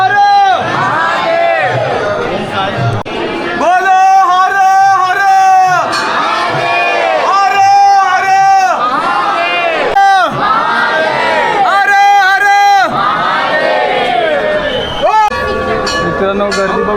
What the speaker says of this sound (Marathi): गर्दी बघू शकता किती गर्दी